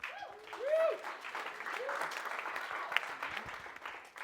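Comedy club audience applauding comedian John Tauriello as he takes the stage, steady moderate clapping with a few whoops and voices rising briefly near the start, continuing evenly throughout.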